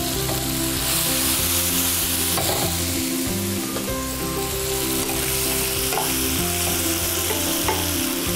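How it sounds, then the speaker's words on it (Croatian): Cherry tomatoes and radicchio leaves with Italian seasoning fry in a pan alongside cod and pancetta, a loud, continuous sizzle with repeated scraping strokes of a utensil stirring throughout, no talk. "piremo, odnosno pržimo, često miješajući"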